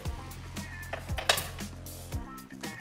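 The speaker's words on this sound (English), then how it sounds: "I love starting my dough with a whisk because it incorporates much faster and speeds up the process" Whisk clinking against a bowl while mixing dinner roll dough, a series of light, uneven metallic taps and scrapes up close, quiet and irregular with small clusters of clicks.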